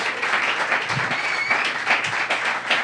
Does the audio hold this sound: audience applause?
yes